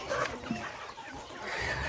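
Chickens and chicks kept for vaccination cluck in short, soft calls near the listener, several scattered bursts over a low background.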